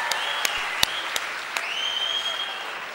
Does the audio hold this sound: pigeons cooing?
no